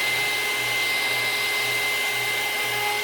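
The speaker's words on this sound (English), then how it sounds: "I'm going to take my little blow dryer, heater, or whatever you want to call it, and just take some of these bubbles off the top." A small handheld blow dryer heater runs steadily and loud, held close over fresh resin coasters to pop surface bubbles, with a constant whirring fan hum and airy rush and no talk.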